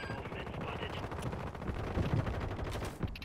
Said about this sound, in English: Oh, I'm getting shot behind.